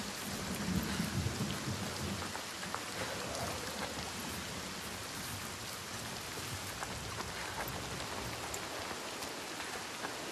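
Steady, heavy rain pours throughout a stormy scene in the video game Senua's Saga: Hellblade 2, with low rumbles of thunder rolling underneath, mostly loud in the first seconds and continuing as a dense wash.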